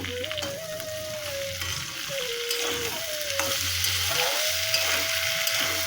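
Water rinsed from the spice bowl is poured into a tengra fish curry, and the pan sizzles and bubbles steadily with a continuous frying hiss, with no voices.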